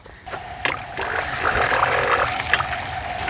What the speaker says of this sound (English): I'm watering everything.